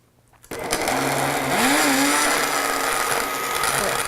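A food processor blends a dry garbanzo cookie mixture with dates, starting abruptly after a brief quiet moment and then grinding on as a loud, steady, close-up whirring roar.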